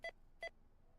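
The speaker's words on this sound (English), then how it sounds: "At least the bell for the next customer is not annoying." In the Mall Simulator game, a simple customer bell chimes twice in quick succession, each a short bright ding. The chimes are faint and sit over a quiet background murmur.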